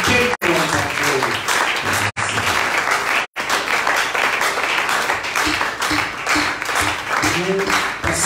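A church congregation claps and cheers loudly, a sustained wave of applause with voices shouting over it, broken by a few brief dropouts.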